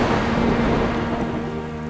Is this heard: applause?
no